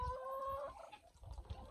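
A chicken clucks briefly and faintly near Muscovy ducks on a homestead, a few soft calls close by with no talk.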